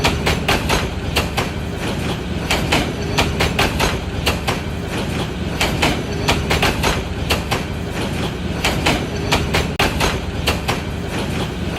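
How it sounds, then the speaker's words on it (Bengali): A cartoon train ride gives a loud continuous rolling roar with quick, regular clickety-clack wheel beats repeating close by throughout, and no voices. "দুর্গাপুর থেকে ট্রেনে উঠেছি।"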